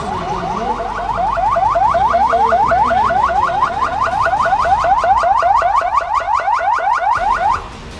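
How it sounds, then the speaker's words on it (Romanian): Alarm goes off at the start of an emergency drill simulating a magnitude 7.5 earthquake. A loud, rapid, repeating electronic warble runs steadily for about seven seconds, then cuts off abruptly, with no voices. "În momentul când a fost dată alarma, toate forțele implicate în exercițiu au intrat în alertă."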